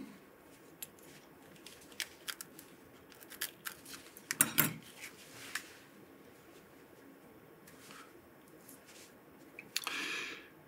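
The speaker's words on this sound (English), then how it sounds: "we will pick out four or five barbules worth off the side of the stem" Small scissors snip feather barbules off the stem while a dry fly is tied, giving a few sparse, faint clips and a brief louder cut in a quiet room, with no speech.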